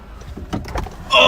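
A storm chaser's car door opens during winter weather in Oklahoma City: soft muffled knocks and clicks, then a sudden loud, steady rush of heavy precipitation from outside.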